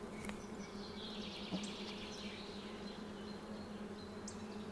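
Honeybees fan their wings on a board near a swarm cone trap, a faint continuous buzzing hum with occasional closer bees droning past, no voices.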